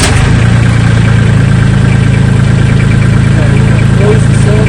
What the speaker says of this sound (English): I'm going to fire up the tractor here